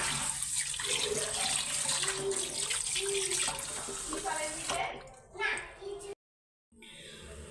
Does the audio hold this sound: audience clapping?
no